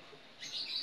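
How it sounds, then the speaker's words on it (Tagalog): Flock of lovebirds chirping, a burst of bright overlapping tweets rising in the second half, fairly close and loud over a quiet background. "mga lovebirds. Naghuhunihan silang lahat."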